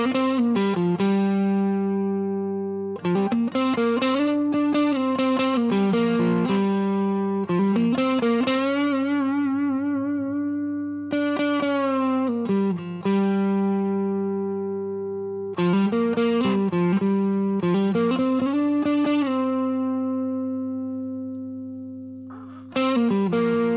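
Fender Custom Shop Artisan Stratocaster with a koa body, played with effects and distortion, sustained chords and melodic phrases ringing out with brief pauses between them, loud and close.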